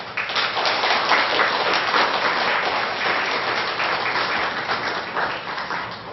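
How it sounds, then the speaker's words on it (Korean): A church congregation at a Sunday worship service on Jeju gives steady, sustained applause to welcome a visiting missionary pastor, a dense, even wash of clapping filling the whole stretch without pause. "우리 오신 선교사님, 우리 목사님을 환영하면서 큰 박수로 환영해 주시기 바랍니다."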